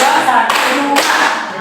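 A group claps in unison in a four-beat pattern during an Indonesian academic coaching session, a dense, steady burst of close hand claps with a sharp accent near the middle, and no voices over it.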